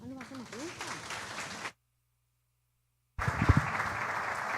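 An audience at a judicial forum on simplifying court procedure applauds after a presentation. The sustained clapping breaks off, then resumes just as loudly, and a voice is heard over the second burst.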